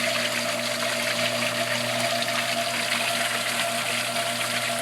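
Water gushing and splashing out of a Cetus sieve during a flow test, a loud, continuous rushing spray with a steady pump-like hum underneath, unbroken throughout and heard close up.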